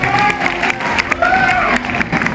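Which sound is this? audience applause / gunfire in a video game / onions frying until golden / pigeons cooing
audience applause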